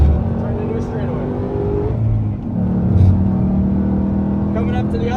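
Race car engine on a track during an SRO Motorsport driving experience, a steady loud drone that swells as it accelerates out of a turn toward a straightaway, heard from inside the car with someone talking over it.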